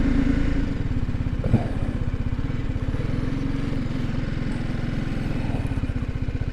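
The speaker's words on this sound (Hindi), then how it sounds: "यस ये मोटरसाइकिल है," A motorcycle engine drones steadily while riding on an alpine mountain road near glaciers, with a continuous close rumble and rapid firing pulse, loud and unbroken.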